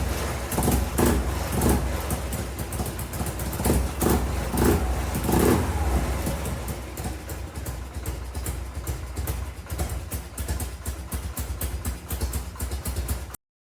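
A 1980 Harley-Davidson Shovelhead Fat Bob with its factory exhaust system idles and revs nearby, a loud, uneven, lumpy thumping that rises in spurts early on, then settles into a steadier loping beat.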